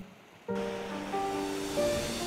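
Flowing river water in the Philippines where children wade, a steady broadband wash that starts abruptly and stays moderately loud, with faint tonal hum lines running beneath it.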